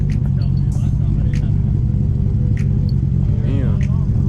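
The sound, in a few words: car engine warming up, 2.8 liter HKS stroker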